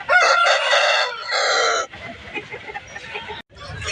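A country rooster at a poultry market in Anantapur crows loudly and close in two long calls, followed by softer clucking and background market noise.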